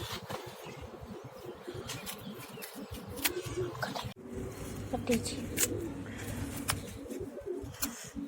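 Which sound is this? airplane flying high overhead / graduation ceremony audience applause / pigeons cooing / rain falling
pigeons cooing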